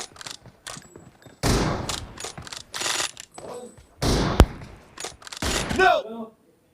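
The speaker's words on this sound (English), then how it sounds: "Reloading!" Sniper rifle in a team deathmatch video game, with a series of sharp mechanical clicks and metallic clacks of reloading mixed with bursts of gunfire and game noise, close and loud.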